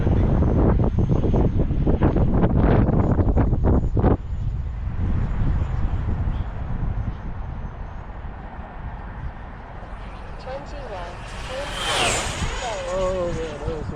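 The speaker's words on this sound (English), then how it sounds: "Oh, that's pretty windy." Strong wind roars and buffets the microphone outdoors while an FMS Avanti model jet flies, steady and loud throughout, with a faint whine of the jet passing later; a person talks over it.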